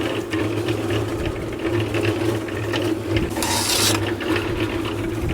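A rotating mortar mixer drum for stone masonry mortar churns as the mortar is scooped out. It gives a steady, close mechanical rattle and clatter, with a brief hissing scrape near the end.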